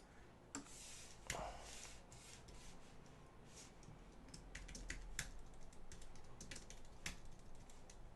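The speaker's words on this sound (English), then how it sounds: "How fun is it to see me typing?" Computer keyboard typing at a home desk, a steady run of quick, irregular clicks close to the mic, with a few louder key strikes standing out.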